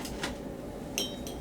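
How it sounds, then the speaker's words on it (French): One or two ice cubes drop into a drinking glass while an aperitif is served, giving a few bright clinks over a steady background hum. "Selon la réponse de mes clients, je sers 1 ou 2 cubes de glace"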